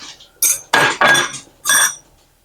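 Eggs and ricotta lasagna filling mixed in a bowl, with four loud, close scraping and clinking strokes of a utensil against the bowl in quick succession, then quiet.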